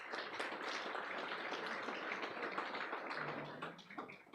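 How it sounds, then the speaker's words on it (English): Applause at a university sports gala honouring the sports scientists: dense, steady clapping from a large seated audience, holding level for about four seconds before thinning slightly at the end, with no voices over it. "The sports scientists. Let's give them a round of applause."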